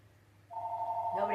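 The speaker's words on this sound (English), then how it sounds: "We're just gonna wait for the phone to finish ringing while we do the podcast." A telephone rings during a podcast recording, a steady electronic tone swelling in and then turning into a richer ringing warble, fairly loud and close with no words over it.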